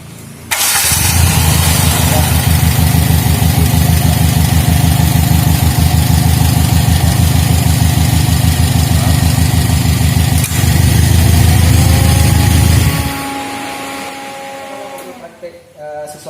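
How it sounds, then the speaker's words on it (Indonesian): An older Toyota Kijang engine in an automotive school workshop cranks and catches, then idles with a loud, even chugging for about twelve seconds before cutting off, leaving quiet room sound. "Ini mesin ini cukup lumayan bagus dan mungkin bisa kita coba hidupkan."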